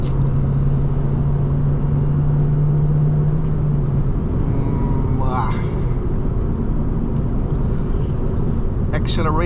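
A Peugeot RCZ accelerating in fourth gear on a highway, a steady loud engine and road drone with wind noise throughout, the engine tone rising slowly while someone talks over it.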